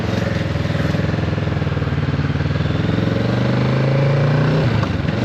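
A motorcycle engine running steadily with a throbbing, pulsing note, close and loud, its pitch climbing under throttle before dropping sharply near the end as the rider shifts up a gear.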